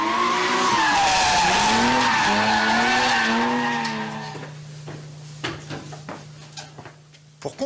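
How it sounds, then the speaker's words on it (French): Loud, sustained tire squeal from a drifting car, with wavering pitch over a revving engine, fading after a few seconds into a low idle and scattered clicks. "le crissement des pneus, des fois, est plus gênant que le bruit moteur même"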